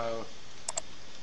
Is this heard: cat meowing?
no